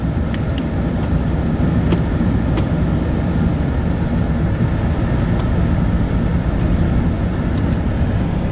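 A car driven slowly across grass during a first driving lesson, a steady loud low rumble throughout, with occasional light clicks and rattles on top.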